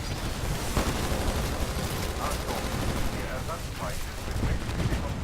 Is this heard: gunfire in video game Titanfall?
yes